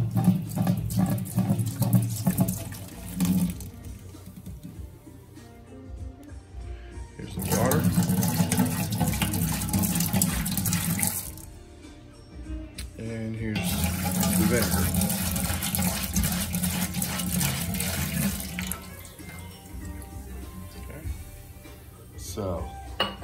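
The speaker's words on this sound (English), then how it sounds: "it's not gonna take long to fill the pot up." Tap water runs steadily into a cooking pot in a kitchen while crabs are being prepared, the flow stopping and restarting a few times with faint clinks of pots, and someone talking over parts of it.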